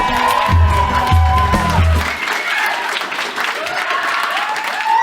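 An audience at a live comedy show breaks into loud applause, dense clapping with a little cheering that fills the room after a brief opening tone.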